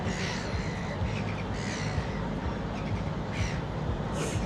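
Seagulls bathing at a Sydney waterside squawk repeatedly over a loud, steady background roar, with harsh calls rising now and then above the noise.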